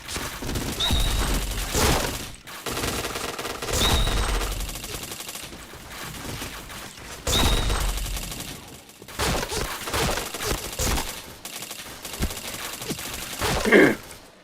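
Video game gunfire during a match, with loud bursts of rapid automatic shots and single shots recurring in clusters across the stretch, separated by brief pauses, with a sharper crack near the end.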